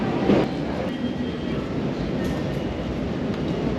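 Riding a Tokyo commuter train gives a steady, dense rumble of wheels and carriage noise from inside the car, with faint clicks and a few brief squeaks along the way.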